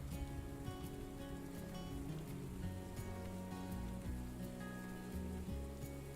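Steady rainfall in the Morels: The Hunt 2 video game, a continuous patter of raindrops with faint tonal ambient sounds running beneath the even wash.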